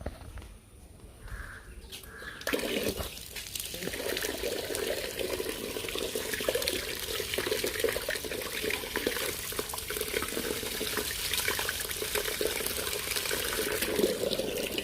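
Fruit is washed under running tap water: after a quiet start, a steady splashing stream begins and continues evenly at close range.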